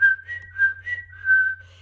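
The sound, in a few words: person whistling a little tune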